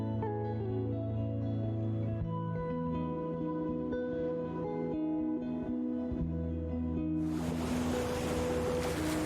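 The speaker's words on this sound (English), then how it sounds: "The sheer force and sound of the falls are enough to leave even the most seasoned traveler speechless." Niagara Falls, one of the world's most voluminous waterfalls, thunders as a steady, dense roar of plunging water, with a brighter hissing wash swelling in near the end; no voices are heard.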